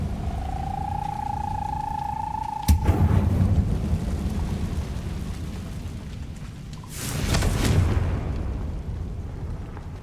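Two Confringo explosion spells go off in Hogwarts Legacy gameplay, each a sudden fiery burst with a rushing blast, the second one longer and spread out, over a low ambient game hum.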